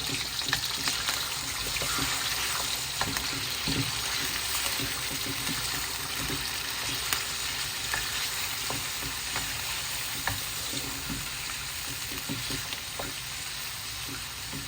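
Chunks of lamb leg for a charsi karahi fry in oil, a loud, even sizzle that carries on steadily, with scattered pops and occasional stirring scrapes.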